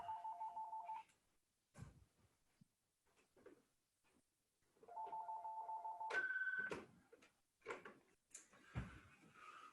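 A home landline telephone rings in repeated electronic trills, a burst, a pause, then another longer ring, close and clear over near silence with scattered small knocks.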